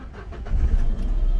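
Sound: Renault Kwid car engine starting with programmed key

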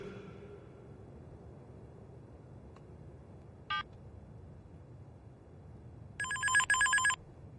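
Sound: wireless telephone ringing

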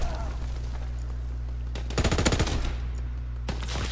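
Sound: gunfire in the video game Call of Duty WWII

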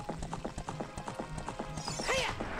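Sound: horse hooves clip-clopping while riding, from video game Zelda: Ocarina of Time

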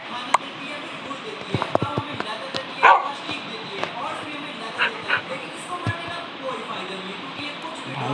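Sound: dog barking in a cute voice

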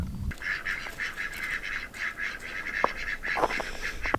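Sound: ducks quacking

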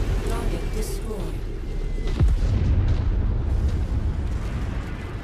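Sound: explosion of a destroyed target in MechWarrior 5 video game

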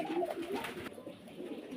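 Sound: white running pigeon cooing

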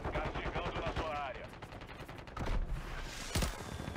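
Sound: gunfire in Call of Duty video game

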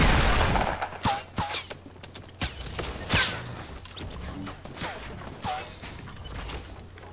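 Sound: gunfire in the video game Fortnite

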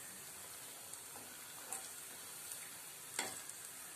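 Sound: rava bonda frying in oil, being turned over

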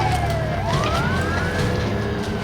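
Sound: police siren from a video game

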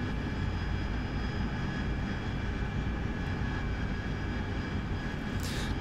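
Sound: AV-8B Harrier jet engine in DCS flight simulator game

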